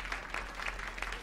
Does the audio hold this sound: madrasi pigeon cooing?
no